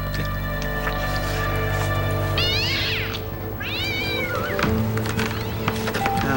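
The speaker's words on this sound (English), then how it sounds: "Just a good old cat fight." Cats fight with two drawn-out, wavering yowls in the middle, over a steady background hum, followed by a short thud-like squish.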